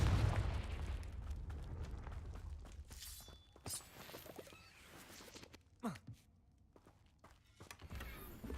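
Bombarda and Confringo spell blasts in Hogwarts Legacy, heavy booming thuds at first, then scattered bursts, pops and crackling effects on a rumbling game soundtrack.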